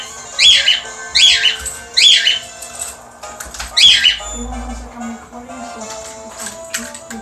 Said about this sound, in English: And now my bird is being psycho.